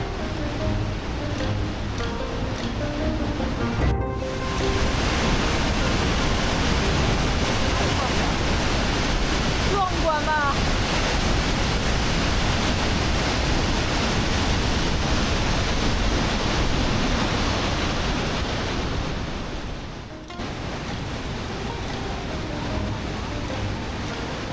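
Rushing river water roars as it bursts out of a huge gourd-shaped tunnel hollowed into a mountain in Shennongjia, China, a steady broadband torrent that holds loud and unbroken throughout.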